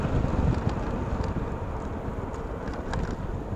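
Steady low rumbling wind buffeting the microphone on a motorcycle ride near the coast in Pagbilao, Quezon, a continuous broadband roar with slight gusts and no voices.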